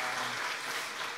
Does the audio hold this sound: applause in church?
yes